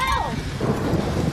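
Thunder rolls over falling rain in a storm, a rumbling crash with a steady hiss of rainfall; a faint cry or call sounds at the very start.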